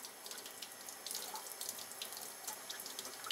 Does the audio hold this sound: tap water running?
yes